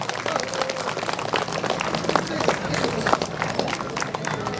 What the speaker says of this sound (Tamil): கைத்தட்டி உற்சாகப்படுத்துங்கம்மா